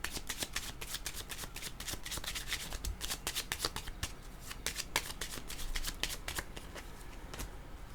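A deck of cards is shuffled for a card reading, with a continuous run of crisp riffling flutters and snaps repeating quickly and close-up, with no voice over it.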